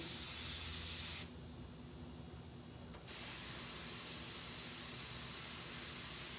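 An airbrush sprays paint onto a hoodie with a loud, steady hiss. The spray cuts back for about two seconds, then resumes at full strength. No one speaks.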